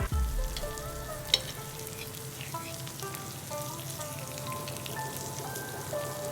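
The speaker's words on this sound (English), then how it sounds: "fry it on a medium-high flame for the first 1 minute" Steady crackling and sizzling of shrimp cakes frying in hot oil over a medium-high flame, close and continuous, with a faint clink early on and no talking.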